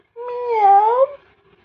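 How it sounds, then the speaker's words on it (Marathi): A cat gives a single clear, drawn-out meow lasting about a second, close and fairly loud, with a rising-falling tone and no talking over it. "कुठं आहे मांजर?"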